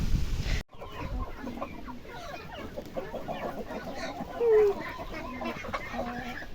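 Farm chickens clucking close by, a steady cluster of soft clucks and calls with one brief louder squawk midway, over outdoor background noise.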